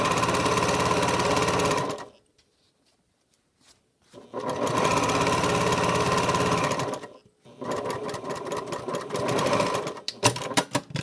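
A sewing machine stitches elastic onto an isolation gown sleeve in three loud, steady whirring runs, separated by short pauses of near silence.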